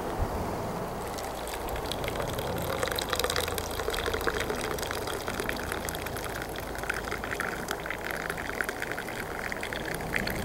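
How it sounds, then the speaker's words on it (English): Tannic acid liquid poured off soaked organic plant material makes a steady, continuous trickle and splash of liquid for several seconds, fairly quiet and close, with no one speaking. "let's go ahead and separate the liquid from the organic material here."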